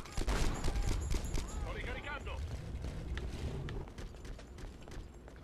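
Gunfire in the war video game Conflict Desert Storm II comes as rapid crackling bursts of automatic fire, dense at first and then more scattered, with players talking over it.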